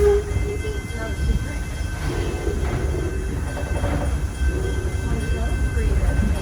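A passenger train on the Torch Lake ride rolls slowly along the rails, giving a constant low rumble and rattling of cars with faint squeals, heard from on board at a steady level with some voices mixed in.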